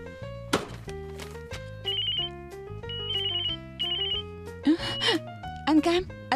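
A telephone rings in a drama scene with a melodic ringtone made of repeated tonal phrases, loud and close, interrupted by brief gasps and breaths.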